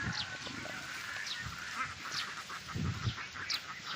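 Several mixed-breed ducks quack repeatedly in a noisy flock while grazing on grass in the evening, overlapping calls close by with a busy outdoor background.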